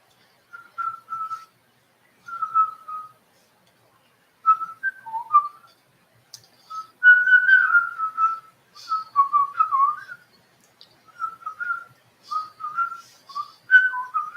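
A person whistles a cheerful tune in short, clear melodic phrases separated by brief pauses, the notes bright and close with no talking.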